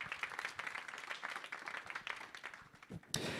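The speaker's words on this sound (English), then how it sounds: "Can we give them a round of applause," An audience applauds at an award ceremony, with steady dense clapping throughout at a fairly soft level and no talk over it.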